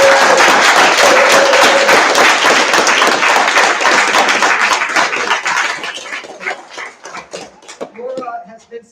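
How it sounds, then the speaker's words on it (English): Sustained audience applause at a school forensics night, loud, dense clapping from a crowd that holds steady and then thins into scattered claps as it fades out. "I would like a big round of applause for Laura Moore"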